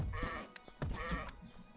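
Sheep in the video game Craftopia let out a few close, clear bleats in quick succession, with no talk over them.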